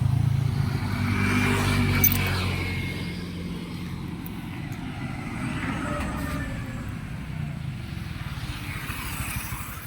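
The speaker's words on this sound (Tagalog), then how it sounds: "Ito yung aking motor." A motorcycle engine runs nearby with a low, steady humming drone that is strongest in the first couple of seconds, then settles into a duller rumble.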